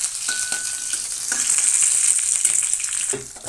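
Garlic with black cumin and green chillies frying in a pan for a red spinach saag, a steady close sizzle with light stirring scrapes throughout, no voices.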